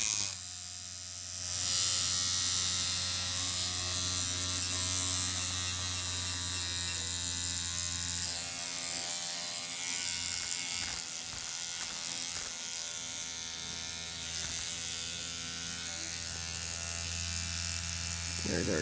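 A Jackhammer rotary tattoo machine runs at 5.5 volts on a Nick Jones battery adapter, giving a loud, steady mechanical hum with a buzzing tone, briefly dipping and resuming while someone talks over parts of it.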